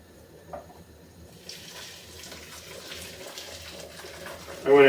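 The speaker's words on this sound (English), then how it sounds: "I've got about a quart of water that we'll just bring this to a boil." A quart of water runs into a pot on a kitchen stove, meant for boiling with piloncillo cones, a steady hissing pour that swells into a louder splash near the end.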